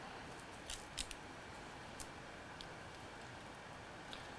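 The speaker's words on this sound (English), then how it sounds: "Cut the tips again." Small scissors give a few faint, quick snips while trimming the tips of deer hair during fly tying for a deer hair mouse, set against a steady background hiss.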